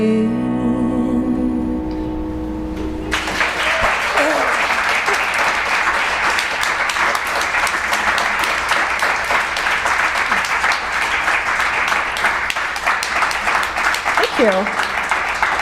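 Concert crowd applauding after a blues song, a sustained loud wave of clapping and scattered whoops that follows the last fading sung notes and carries on for over ten seconds.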